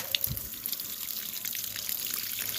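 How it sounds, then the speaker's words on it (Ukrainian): A watering can pours potassium monophosphate solution onto and under tomato bushes, making a soft, steady splashing trickle of water on foliage and soil with no talking. "Поливати я буду так, щоб і на кущ було, і під кущ."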